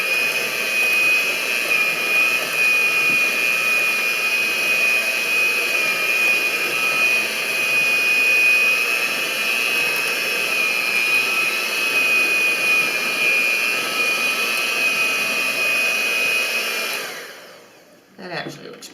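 An electric mixer beats cheesecake batter in a bowl, a loud, steady motor whine that holds constant for about seventeen seconds before cutting out, followed by a few faint clatters.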